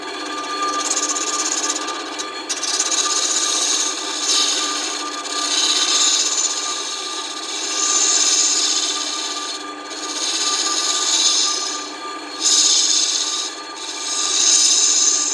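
A freshly made wood scraper rubs against wood in long, rhythmic strokes about every two seconds. It gives a steady raspy scraping up close, with no talking.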